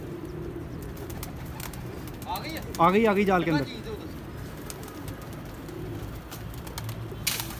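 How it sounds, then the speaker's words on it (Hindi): Pigeons gather at feeding time and give a short burst of soft, throaty cooing around the middle, over faint outdoor background noise. A person says a few words. "दाने का टाइम है कबूतरों को"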